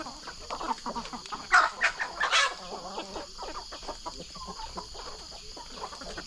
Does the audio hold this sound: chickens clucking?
yes